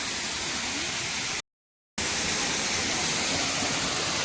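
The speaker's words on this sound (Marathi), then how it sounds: "हा धबधबा आहे" A waterfall in a lush village setting, a loud steady broadband roar of falling water, briefly cut to silence for a moment before resuming just as dense.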